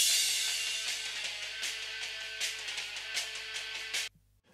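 Soloed drum overhead microphones from a stoner rock mix carry bright, washy cymbal crashes and hits, several struck accents over a sizzling sustain that cuts off abruptly near the end.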